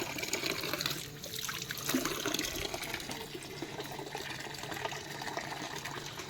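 Hands being washed under a running tap, a steady splash and trickle of water close by at moderate level throughout, with no talk.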